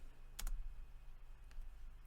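Fingers type on a computer keyboard with a couple of quick key clicks close together and then a faint later tap, quiet against low room noise, with no voice.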